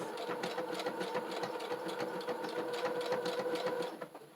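Sewing machine stitching fabric for a fabric junk journal cover: a steady, rapid mechanical whirring and clatter running continuously at moderate volume, then stopping near the end.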